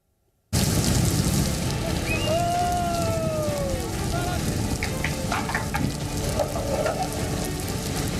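Heavy monsoon downpour over the Himachal mountains around Shimla and Kinnaur: a dense, steady hiss of rain running unbroken and loud for the whole stretch, with a few faint higher tones drifting through.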